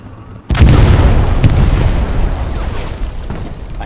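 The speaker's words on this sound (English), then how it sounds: "Tank down." A tank blows up in the war game Hell Let Loose with a loud, sudden boom. A long, rumbling roar follows and fades slowly over several seconds.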